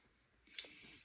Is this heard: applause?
no